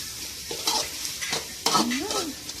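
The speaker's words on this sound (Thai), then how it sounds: "ผัดมันกรอบก่อนนะครับ" Stir-frying crispy potato in a pan before adding curry paste for a spicy frog stir-fry, with a spatula scraping and stirring in brief bursts over a low sizzle, close and moderately loud, no talk.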